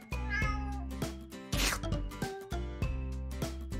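A kitten meows repeatedly in short, close calls alongside a bright rustling burst, with a dense musical layer running beneath throughout.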